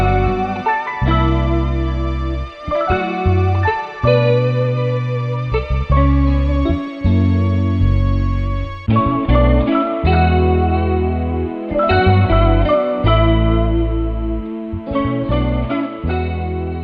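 Piano and guitar play a melodic loop with spacious reverb, notes ringing out and trailing off in a wide, deep wash.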